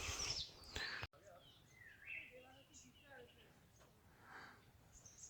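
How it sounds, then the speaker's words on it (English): Birds chirp faintly in a rhododendron sanctuary forest in Sikkim, scattered short calls at a distance amid quiet ambience after a brief loud noise at the start. "there are a lot of birds"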